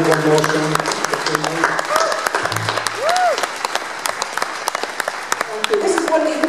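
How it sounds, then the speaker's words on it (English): Audience applause at a live concert, a dense steady wash of clapping lasting the whole stretch, with a few brief voices and faint musical tones mixed in. "I'm sure if you clap loud enough for them, one more song."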